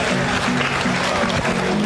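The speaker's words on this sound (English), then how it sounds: "big round of applause for the Honorable Chancellor" Audience applause at an international conference, a dense patter of clapping that stays fairly even and loud throughout the short stretch.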